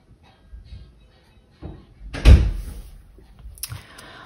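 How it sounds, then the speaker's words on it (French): A household door swings shut with a single solid thud partway through, preceded and followed by softer handling noises and faint rustle; close by, no talking. "Ferme la porte."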